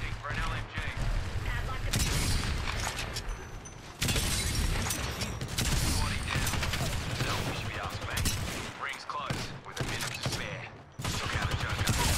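Gunfire and missile launches from the video game Apex, a dense barrage of shots and blasts running almost continuously with brief breaks, loud and close.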